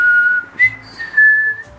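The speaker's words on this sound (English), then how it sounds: "Yeah, it's good at whistling." A child whistles a short, wavering tune of a few sustained notes with brief breaks between them, close and clear with no talking.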